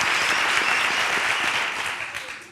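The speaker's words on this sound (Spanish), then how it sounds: "un aplauso para ellos" Audience applause rises in a steady wash of clapping for a band during a Spanish interview event, holding strong before tapering off toward the end.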